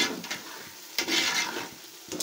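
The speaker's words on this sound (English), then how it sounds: "it's frying the tomatoes." Tomatoes fry in a pot for an omuguo stew, a hissing sizzle with scraping stir strokes and light clinks of the spoon against the pot, close and without talk.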